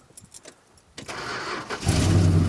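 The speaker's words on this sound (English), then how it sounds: "see if it'll crank just off the key, not even touching the carburetor now" A long-dormant Dodge Monaco cranks on the key and catches: a brief quiet stretch with a few small clicks, then a loud, close churn of cranking that builds into a rough, steady running engine.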